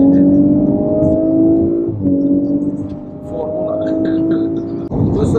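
An Audi RS4 engine pulls hard from close range, its rising revving tone climbing through gear changes with brief dips, heard from inside the car on a road.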